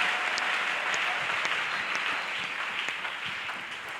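A church congregation at a Thursday worship service applauds for the pastor, a dense steady wash of many hands clapping that fills the room and fades slightly toward the end, with no voices standing out.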